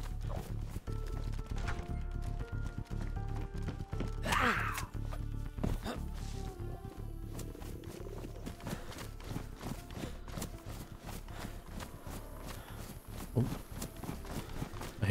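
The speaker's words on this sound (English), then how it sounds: "Oh, I hear a deer." Deer running through the woods in DayZ, a quick patter of hoofbeats against continuous game ambience and music, with scattered footfall thuds over about fifteen seconds.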